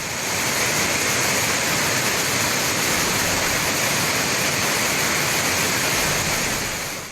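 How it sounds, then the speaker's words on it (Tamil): Flash-flood water roars nonstop through the Kurangani waterfall stream after heavy rain, a loud, dense, unbroken rush with no voices. "குரங்கணி அருவி நீரோடையில் ஏற்பட்டுள்ள வெள்ளப்பெருக்கால் தடுப்புகளை தாண்டி காட்டாற்று வெள்ளம் ஆர்ப்பரித்துச் செல்வதால்"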